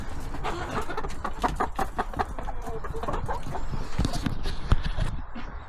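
Chickens cluck and scratch nearby while eating feed in a busy, continuous flurry of short sounds, with some muffled thumps mixed in.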